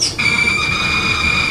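A steady high-pitched electronic tone holds over a dense, buzzing data-like warble, continuous and loud with no voices: Commodore 64 cassette data tones, slowed down.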